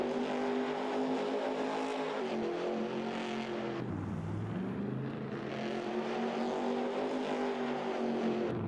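A video game car engine revs and drones continuously, dipping in pitch as it shifts, then climbing again; steady and loud without talking.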